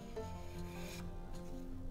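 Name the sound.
hand plane shaving wood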